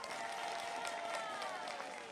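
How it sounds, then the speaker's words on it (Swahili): An audience of villagers at a political rally applauds on cue, a faint, steady wash of many clapping hands heard from a distance with crowd murmur. "Watu wa Bweni na Kanga, pigeni makofi."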